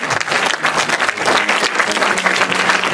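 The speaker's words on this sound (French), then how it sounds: "Merci d'applaudir Sébastien, s'il vous plaît, pour la remise de prix." An audience at an awards presentation applauds loudly and close by, a thick continuous burst of many clapping hands with no speech over it.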